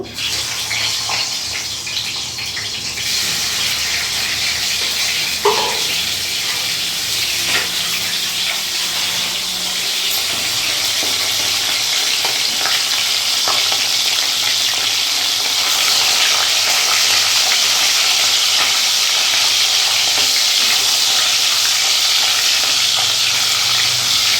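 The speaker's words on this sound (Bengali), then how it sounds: "তেল গরম হয়ে গেছে এবার আমি মাছের মাথাগুলো দিয়ে দেবো" Fish heads fry in hot oil with a dense, constant sizzle and crackle that stays loud and close for the whole stretch, with no voices over it.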